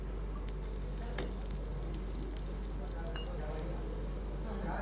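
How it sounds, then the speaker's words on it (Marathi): Garlic and onion frying in hot oil in a pan: a soft, steady sizzle with occasional light stirring taps, faint and close over a constant low hum. "एका पॅनमध्ये आपण तेल गरम करून त्यामध्ये लसूण,"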